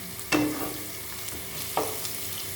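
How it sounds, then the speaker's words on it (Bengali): Spiced tomato masala for kima ghugni frying in a pan, a steady soft sizzle with a couple of sharp scraping stirs of a spoon against the pan, close and moderately loud. "গলে যাওয়া অবধি ভালো করে ভাজতে হবে, কারণ মশলা ভালো করে ভাজা না হলে কোনো খাবারের টেস্ট ভালো হয় না।"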